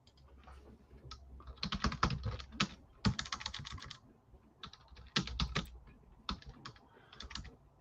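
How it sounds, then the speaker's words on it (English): Fast, heavy typing on a computer keyboard in bursts of clattering keystrokes, close and clear, with short pauses between runs and no talking. "you can hear me pound the keyboard"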